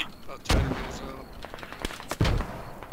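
Explosions from an RPG or missile in the video game Squad: two heavy, booming blasts about two seconds apart, each with a rumbling tail, plus a few sharper cracks between them.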